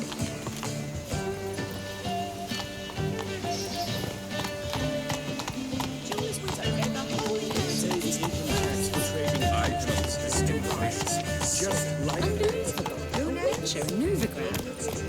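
Roach, a horse in The Witcher 3 video game, gallops with steady rapid hoof clip-clop set against a continuous game music score, the hoofbeats running throughout at moderate loudness.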